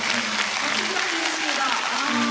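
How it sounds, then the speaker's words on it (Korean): Audience applause at a Busan International Film Festival screening Q&A for the film Weak Hero, a steady wash of clapping with a faint voice or tonal sound running beneath it. "저희 박수 한 번만 주시면"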